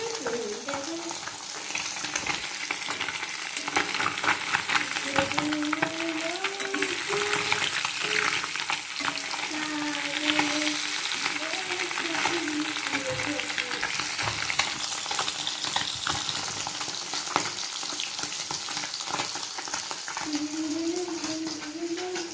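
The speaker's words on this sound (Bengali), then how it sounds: "এই যে আমি মশলা ভালো করে কষিয়ে এখন ঝোল দিয়ে দিয়েছি মাছের" Fish curry masala sizzling and bubbling in a pan after the gravy liquid goes in, a dense continuous fry with crackles and scraping stirs across a long stretch, close by; a faint voice appears briefly at times.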